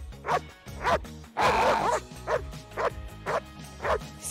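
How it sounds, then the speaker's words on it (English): A dog barking on command during IGP obedience training, a string of about eight loud, close barks in a steady rhythm, with one longer burst partway through. "I'll make him bark in front of me,"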